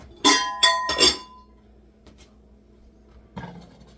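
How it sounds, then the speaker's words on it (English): A cooking pan handled in a kitchen: two or three sharp metallic clinks close together, then quiet, with a fainter knock near the end. "Let me get my pan."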